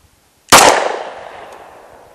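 A single loud, close report from a Glock 20 pistol firing a 10 mm full metal jacket round at an outdoor range, a sharp crack followed by a long fading echo.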